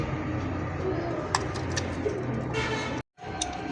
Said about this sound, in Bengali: দুইটা কবুতর মাশাআল্লাহ খুবই সুন্দর কালারফুললি একটা জোড়া